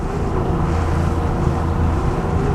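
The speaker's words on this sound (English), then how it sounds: "Got a little bit of wind blowing, not a whole lot." Wind blows steadily across a fishing boat out on the water, a continuous close rushing and buffeting roar that lasts the whole stretch with no voices.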